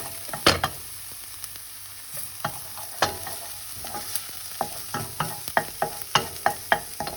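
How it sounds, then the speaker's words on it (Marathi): Chopped garlic frying in a pan for a courgette dish, with a steady low sizzle broken by irregular sharp scrapes and clicks of a utensil stirring against the pan, close and moderately loud, no talking. "आतां लसूण भाजोल्या."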